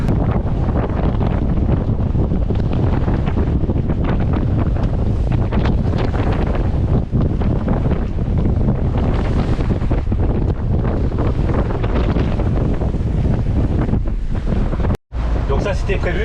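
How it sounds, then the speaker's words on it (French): Strong wind roars across the microphone aboard a sailboat in rough sea, a constant loud buffeting rush with breaking waves mixed in, broken only by a brief dropout near the end. "Et quand il y a du vent comme ça"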